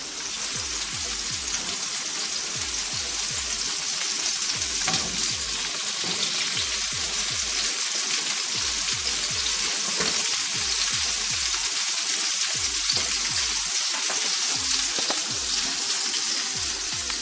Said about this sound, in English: Going to get a bit more of a sear on there.